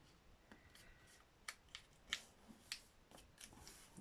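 Scissors snip paper while a journal is filled with ephemera, a few quiet, crisp cuts spaced irregularly against a very faint, hushed background.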